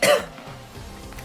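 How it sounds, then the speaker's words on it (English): A single sharp cough from a gamer opening commentary on a 1996 Death Rally playthrough, loud and close to the microphone, then fading into quiet room tone. "A little bit of a wrong time to start a commentary with a cough."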